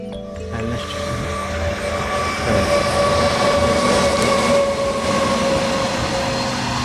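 A train rolls along the railway track beside farm fields near Durgada village, giving a steady, loud rumble with wheel clatter that swells slightly midway and continues throughout.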